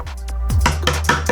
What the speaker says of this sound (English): I'm going to try and chisel away half the material first